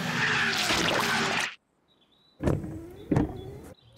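In a Peppa Pig cartoon, a tow truck crane strains: a loud whirring motor burst for about a second and a half, then silence, followed by a few sharp mechanical clunks and creaks.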